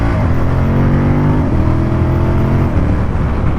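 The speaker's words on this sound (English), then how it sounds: "See if the quick shifter works." Suzuki TL1000R V-twin superbike pulling hard under acceleration, a loud close engine roar with one quick-shifter gear change midway as the pitch drops and climbs again.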